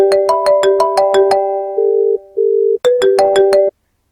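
A desk phone on a 3CX phone system rings in a steady electronic ringtone, two bursts of rapid warbling tones with a longer held tone between them, loud and clear with no one talking.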